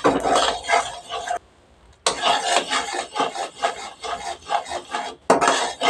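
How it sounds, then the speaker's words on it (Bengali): A spoon rasps and scrapes steadily against a pan while browned caramel is stirred slowly for homemade sweet yogurt, a close, rhythmic rubbing with a brief pause partway through. "এবার আমি আস্তে আস্তে ক্যারামেলটা নাড়তে থাকবো।"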